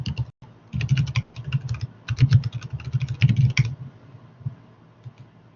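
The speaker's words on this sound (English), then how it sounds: "maybe type in a little note" Bursts of rapid clicking on a computer keyboard as a short note is typed, close and clear, in three quick runs with brief pauses, then tapering off to a few last keystrokes.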